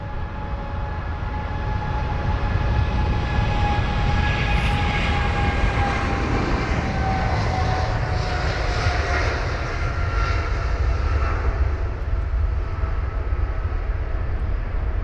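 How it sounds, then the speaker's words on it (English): A Boeing 777-200ER airliner departing London Heathrow for New York JFK, its engines a loud, steady broadband roar that holds throughout with a slowly shifting whine, close by and alone without talk. "And so this is heading to New York JFK, the 777-200ER with flight number BA177"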